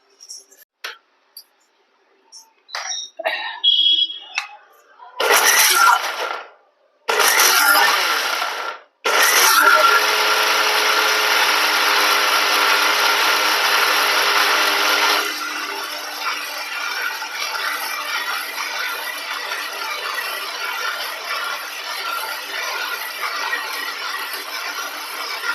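An electric mixer grinder blends a banana milkshake with dates, milk and honey. Clattering and a few short pulses give way to a long, loud, steady whirr that drops to a lower, rougher tone partway through.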